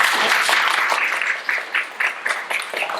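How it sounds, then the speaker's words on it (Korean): Warm welcoming applause from a church gathering in Busan, brisk hand clapping that holds strong at first, then thins into uneven bursts as it trails off. "뜨거운 박수로 환영합시다."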